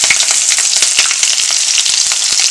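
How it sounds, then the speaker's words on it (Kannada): Onions fry in hot oil with mustard seeds in a pan, a loud, dense, continuous sizzle with small crackling pops throughout. "ಈರುಳ್ಳಿ ಫ್ರೈ ಆಗ್ತಾ ಬಂತು."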